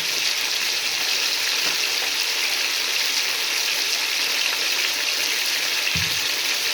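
Water poured into a pot of chicken cooking with green chillies makes a steady hissing sizzle and rush, with a couple of brief knocks near the end.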